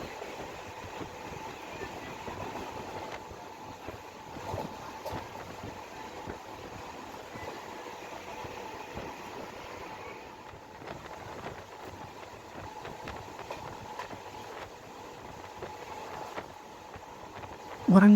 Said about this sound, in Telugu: వరంగల్ రైల్వే స్టేషన్ దగ్గరికి అయితే వెళ్తుంది ట్రైన్.